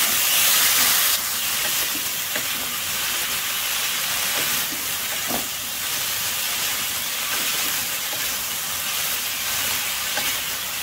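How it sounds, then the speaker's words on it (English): Vegetables sautéing in a hot pan, a steady loud sizzle and hiss that runs without a break, with no talk. "Saute it for about 2 to 3 minutes."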